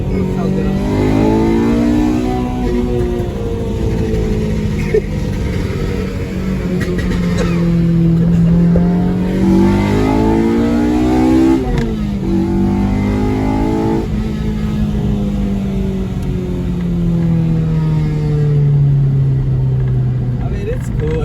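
A Honda Civic DX with a swapped K20Z3 engine and stock muffler revs repeatedly up and down, loud and close, its pitch climbing and falling in long sweeps with a steady throaty drone.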